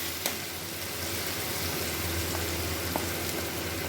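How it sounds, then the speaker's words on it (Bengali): Spice paste frying in a wok for a Bengali mutton curry, a dense, steady sizzle that runs continuously with a few faint stirring clicks and no voices. "আমার যে মশলাটা দেওয়া ছিল কড়াইতে সেটা আমি কষিয়ে নিয়েছি"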